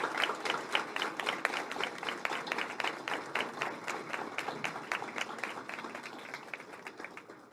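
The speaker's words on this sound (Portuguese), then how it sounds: "que vocês também recebam uma salva de palmas de todos por esse evento" Audience applause at the close of an e-sports panel debate, a steady dense patter of many hands clapping in a hall for several seconds, moderately loud and gradually fading toward the end.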